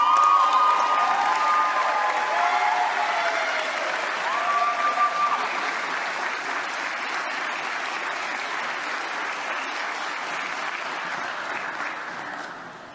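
A crowd at a senior sports awards evening applauds award winners with sustained, steady clapping and some cheering, loud at first and slowly tapering over about thirteen seconds.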